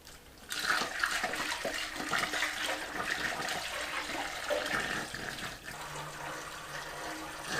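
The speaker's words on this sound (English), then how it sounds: "Alright, time to pour this in." Electrolysis solution poured from a container into a fuel tank through a funnel, a continuous gushing, splashing pour close by that eases slightly near the end.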